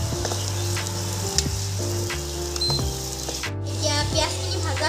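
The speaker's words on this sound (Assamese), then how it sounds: "এতিয়া পিঁয়াজখিনি ভাজা হৈ গ'ল" Onions and garlic fry in oil for a sweet and sour fish curry, giving a steady sizzle with occasional stirring taps beneath a louder tonal musical background.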